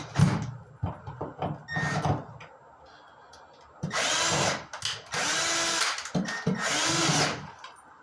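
A power drill driving screws into drywall and a wooden support during a water-damaged wall repair, heard in several close, whirring bursts of a second or two each, separated by short pauses with light handling noises.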